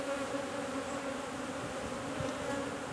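Honey bees buzzing around a hive frame during a queen search, a dense steady drone of many bees close by, continuous throughout with no talking.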